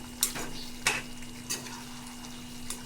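Chicken sukka gravy is stirred in a pan, with four evenly spaced scraping strokes of a spoon over a low, steady background hum and a faint frying sound.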